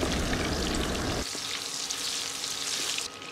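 Sliced onions and garlic frying in a pan, a steady close sizzle that starts loud and dense, then settles into a lighter, continuous crackle with small bursts of spatter.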